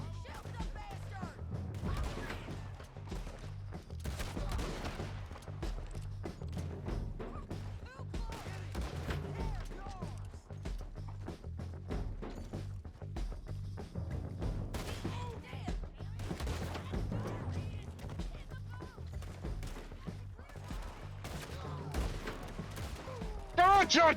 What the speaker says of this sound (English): Watch your shooting, fuck's sake!